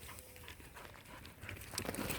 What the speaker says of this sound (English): Another doggy.